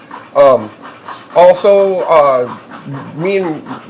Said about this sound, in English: The favorite pup of the day was the one that you could hear panting right there in the background.